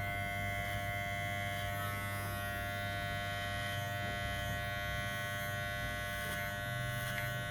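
Wahl Legend hair clipper buzzing continuously at close range during a fade haircut, a steady high-pitched electric hum with no talking.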